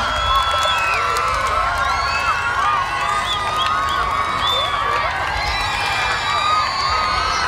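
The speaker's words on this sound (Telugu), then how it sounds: "సార్, ఇది మీరు సంపాదించుకున్న చప్పట్లు." A school audience at a Sankranthi celebration cheers, with loud continuous children's shouting and whoops and scattered clapping mixed into a dense, close crowd roar.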